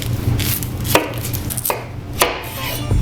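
A knife chops through the tops of an onion on a cutting board, four sharp strokes spaced roughly evenly and close by, with no voices.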